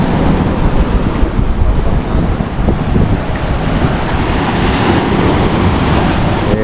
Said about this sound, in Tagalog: Alon pa rin